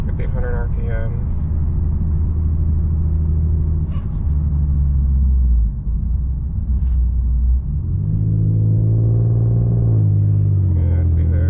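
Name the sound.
Infiniti Q50S engine and exhaust with Vibrant resonator, heard inside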